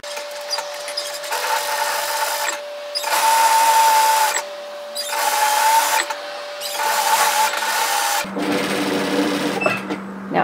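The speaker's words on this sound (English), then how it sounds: "start off by coming to the seam and just run a line of stitches through" A domestic sewing machine runs a line of holding stitches along a seam in knit fabric, several loud whirring bursts separated by short pauses, close up, ending in a low hum.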